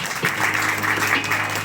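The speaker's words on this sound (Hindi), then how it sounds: "आप इस्तकबाल करें अपनी भरपूर तालियों से" An audience applauds at a software house's 13th anniversary award ceremony, a short, dense burst of clapping from a seated crowd with no voices over it.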